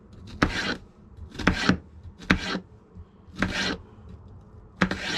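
A knife chops an onion on a cutting board in five sharp, separate strokes, close and crisp, with short pauses between them and no talking.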